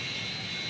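Steady roar of a Su-27 jet engine as it is throttled back to idle, a brief continuous whine and rush with no voices.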